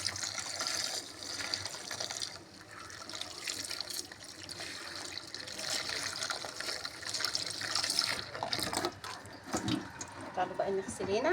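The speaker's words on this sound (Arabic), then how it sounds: "تعالوا بقى نغسل هنا" Water running at a sink while washing a freshly cleaned item, a steady splashing flow that keeps going throughout with someone talking over it in Arabic.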